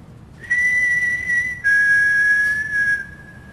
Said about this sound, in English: If I whistle, can you copy me